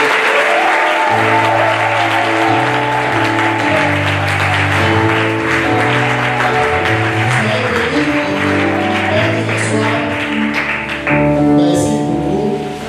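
Congregation at a baptism service applauding steadily for the whole stretch, the clapping mixed with loud sustained music and singing that carries through, with a brief swell near the end.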